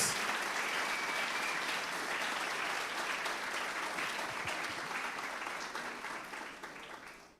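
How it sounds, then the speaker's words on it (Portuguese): A church congregation applauds steadily and strongly for the pastors and home hosts, a dense broadband clatter of many hands that holds evenly before tapering away at the end, with no voice over it. "Você pode dar um forte aplauso pela vida deles?"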